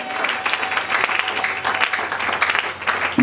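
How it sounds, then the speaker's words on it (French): A church congregation applauds loudly for the Lord, with dense, sustained clapping close by and crowd noise mixed in throughout. "Acclamons très fort pour le Seigneur"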